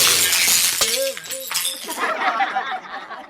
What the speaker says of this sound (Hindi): और राजा के हाथ में थमा हुआ कांच का गिलास चकनाचूर हो जाता है।